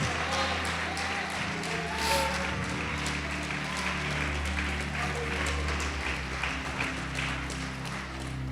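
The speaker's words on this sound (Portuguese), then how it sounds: "Pode aplaudir e glorificar Jesus." A church congregation applauding during a Portuguese-language sermon, a continuous mass of clapping hands filling the room at steady volume for several seconds, with a low background hum beneath.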